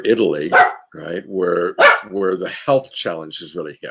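A pet dog barks at home while someone speaks over it, the barks mixed in among steady conversational speech.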